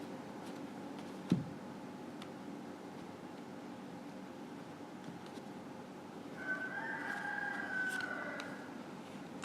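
Roosters crow outdoors, fairly distant and faint, with a drawn-out call rising in the second half over a steady background hum.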